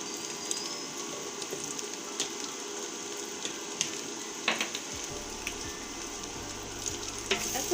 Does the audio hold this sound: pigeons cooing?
no